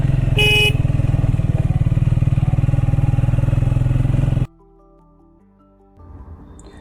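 A motorcycle engine revving hard while climbing a steep hill road near Khirsu, Uttarakhand, loud and close with a steady throbbing drone, a brief horn-like tone early, then cutting off abruptly to quiet background music.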